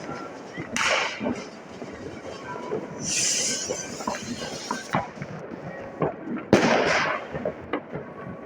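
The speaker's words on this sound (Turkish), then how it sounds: "Işıklar, havai fişek ışıkları." Several sharp New Year's fireworks bangs and crackles go off at intervals in Germany, some near and loud, others farther away, with a faint murmur of voices in the background.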